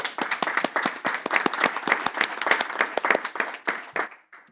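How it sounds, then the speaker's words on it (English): A small group claps at a school board meeting, a brisk run of distinct, close hand claps that holds steady and then tapers off at the end. "a round of applause for all of you"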